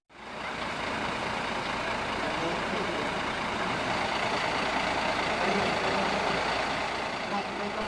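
Police water cannon truck spraying disinfectant along district roads in Jayapura Regency, its engine a steady loud rumble with a continuous broad hiss of spray, unbroken throughout and close by.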